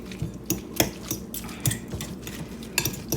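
Forks scraping and tapping as cooked slow-cooker chicken is shredded apart, with a series of sharp, close metallic clinks and scrapes at an uneven rhythm and no talking.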